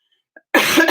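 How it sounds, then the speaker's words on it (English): A single loud, harsh cough from a person with a cough during a live stream, bursting out abruptly after a near-silent moment with only a tiny faint sound before it. "I can't even talk with the cough."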